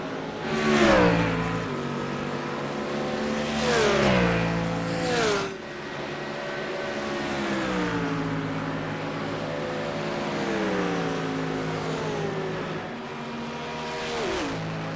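GT3 race cars roar around Watkins Glen in a racing video game, engines rising and falling in pitch through shifts and corners, loud and continuous with no voices.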